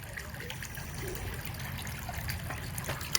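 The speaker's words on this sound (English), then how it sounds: "We'll let water get inside and fill it." Water trickles and gurgles steadily as it fills a sinking DIY fish tunnel in a catfish pond, a soft, continuous bubbling at low level.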